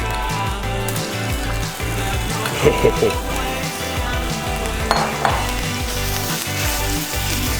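Seasoned bulgogi, cooked straight away without marinating, sizzles steadily in a hot pan. A constant close frying hiss carries a couple of brief clinks and scrapes of stirring.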